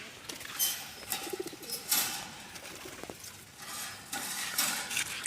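Pigeons coo softly in a few low, burbling bursts amid light clinking and background clatter, with no talking.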